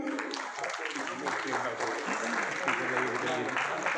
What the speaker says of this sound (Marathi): आपण टाळ्या वाजवूयात का जरा सगळे?